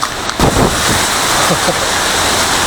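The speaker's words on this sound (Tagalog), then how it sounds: "medyo nawala-wala na rin yung ulan pero yung hangin ay nandito pa rin" Strong wind from Typhoon Quinta roars steadily, buffeting loudly and close, with gusty rumbling and rustling throughout as the rain eases.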